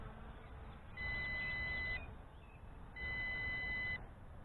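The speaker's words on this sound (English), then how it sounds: "I still got low battery alarm." The low battery alarm of an MJX Bugs 5W quadcopter drone sounds as two long, steady electronic beeps about two seconds apart over a soft background hiss.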